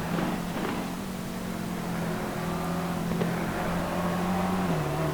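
GT3 race cars, including an Audi with a 5.2-litre V10, lapping Circuit Zolder, a steady droning engine note holding pitch then dipping slightly as a shift comes, continuous and moderately close.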